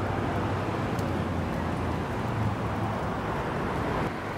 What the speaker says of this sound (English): there's traffic, there's people, but I can hear all of it